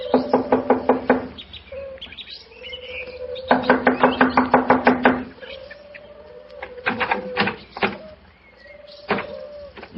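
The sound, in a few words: knocking on a door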